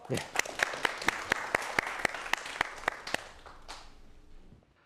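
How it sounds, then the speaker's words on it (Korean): A small studio audience claps for a professor about to lecture on 4D printing: a steady, evenly spaced run of sharp individual claps, moderately close, that thins out and fades to quiet near the end. "문 교수님께 박수 한번 부탁드릴게요"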